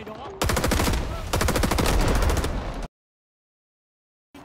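Rapid automatic gunfire from Rising Storm 2 comes in two loud, close bursts of fast repeated shots, then cuts to silence.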